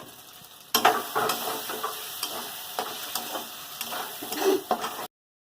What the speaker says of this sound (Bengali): এবার ভেজে রাখা আলুগুলো দিয়ে দেবো।